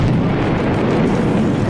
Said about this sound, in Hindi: काउंटडाउन खत्म होते ही रॉकेट इंजन ने आग की लपटें उगलनी शुरू कर दी और फिर उसमें धमाका ही हो गया।